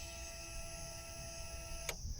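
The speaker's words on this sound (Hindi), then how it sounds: "जैसे ही आप यहाँ से स्विच लगाएंगे तो इसका पहले ये पंप चलता है, आप आवाज़ सुनिएगा।" Fuel pump priming on an Xpulse 210 fuel-injected motorcycle as the ignition is switched on: a steady mechanical whine with tonal hum runs throughout, ending in a brief click near the close.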